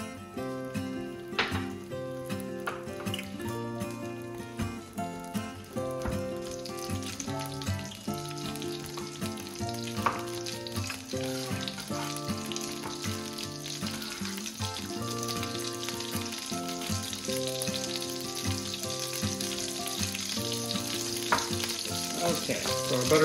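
Butter sizzles in a pan while steady background music plays, a soft crackling hiss under the melody throughout with no talking.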